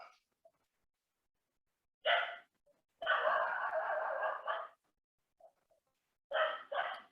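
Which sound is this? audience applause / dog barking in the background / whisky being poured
dog barking in the background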